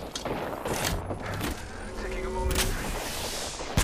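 Gunfire from a shooter video game played in an arena mode, a loud continuous rattle of shots and booms that fills the whole stretch with no clear pauses.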